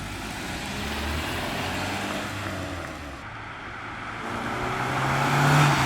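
A car engine idles steadily at close range, a continuous low rumble with a faint rise toward the end; the engine is thought to have a bad head gasket and is being run until it warms up.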